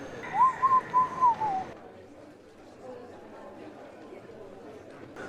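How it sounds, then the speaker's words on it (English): A bird gives a short series of clear whistled notes, four or five in a row, echoing inside Batu Caves, Malaysia, before fading into quiet ambience. "Got a bunch of birds and stuff in there."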